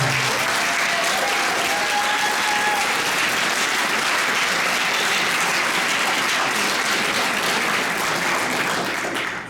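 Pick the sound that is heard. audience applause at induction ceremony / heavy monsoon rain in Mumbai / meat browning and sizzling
audience applause at induction ceremony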